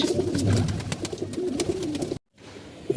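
Pigeons coo in low, throaty murmurs, close and steady, before the sound cuts out briefly and then returns faintly.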